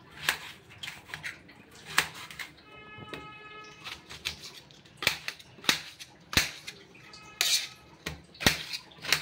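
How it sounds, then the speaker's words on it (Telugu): A knife cuts an ash gourd into small pieces, with sharp, irregular chopping clicks against a board repeating close by, with no talking. "చిన్న చిన్న పీసుల్లో కట్ చేసుకోవాలి."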